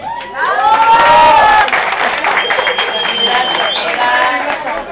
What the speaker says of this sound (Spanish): A Shakira la medio aplaudieron.